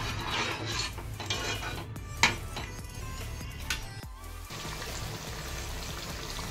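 Tamarind pulp going into a simmering karli fish curry in a pot, with clinks of a spoon against the metal pot, stirring and a brief pour, fairly close with a steady background hiss.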